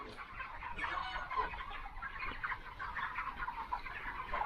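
Chickens in a poultry shed on a farm, a steady chorus of clucking and murmuring birds heard at moderate distance over a low background hum.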